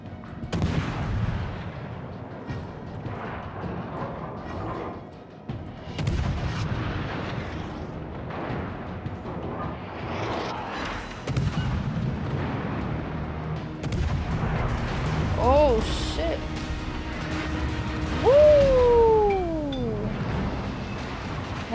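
Heavy naval gunfire in World of Warships, with repeated booming salvos and explosions of varying loudness across the scene, plus metallic clangs and falling whistling tones near the end.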